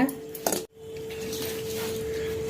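Ragi dough being mixed with peanut-sesame powder in a bowl gives soft scraping and clinks of a utensil against the bowl, with a steady hum behind it.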